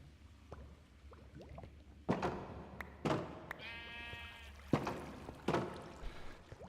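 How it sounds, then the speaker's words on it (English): A sheep bleats in the video game Minecraft, heard as a short, faint bleat among scattered thumps and soft game sounds in a quiet world, with no talking. "I can't believe it's a sheep."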